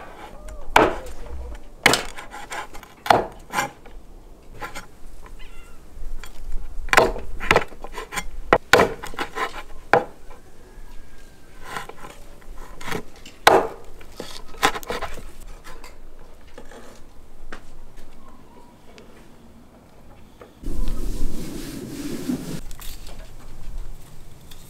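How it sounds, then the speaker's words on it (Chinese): Chicken feet are chopped into small pieces on a board, with sharp, irregular knocks of the blade up close and quieter handling between strikes, then a short burst of clattering near the end. "切一下，分割成小块。"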